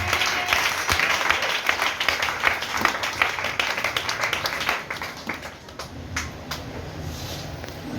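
A church congregation claps in praise of God, a dense burst of applause that thins into scattered, sharper claps toward the end.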